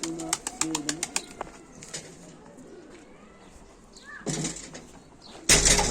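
Game pigeons, including a hen and her young, give soft low coos mixed with scattered wing and perch clatter, fairly close, followed by a louder rustling burst at the end.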